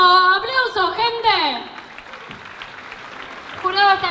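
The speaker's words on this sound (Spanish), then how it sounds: "¡Aplauso, gente!" Spoken voices dominate the start, then a crowd at a rap battle tournament claps in a dense, moderate wash before a voice returns near the end.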